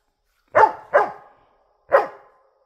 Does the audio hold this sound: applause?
no